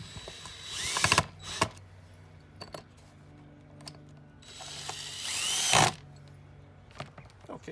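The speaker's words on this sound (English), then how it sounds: "now we're just going to screw these down into the wood." A power drill drives screws through a plate into a wooden lid for a homemade chick brooder, giving two brief whirring bursts, close and fairly loud, separated by quieter handling noises.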